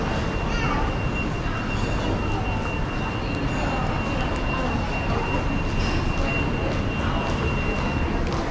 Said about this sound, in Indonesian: Ada kereta api cepat, ada kereta api lambat, ada monorail, ada LRT, semua mampir di sini ya.